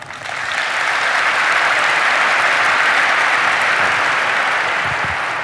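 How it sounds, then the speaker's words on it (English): A large conference audience at a business marketing event claps in a dense, sustained wave that swells quickly and holds steady throughout. "you folks that just clapped"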